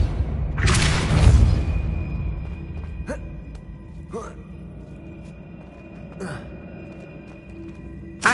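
Depulso, a pushing spell in the game Hogwarts Legacy, bursts out as a loud, broad magical blast lasting about a second. A few sharp clicks and faint game tones follow over a steady background hum.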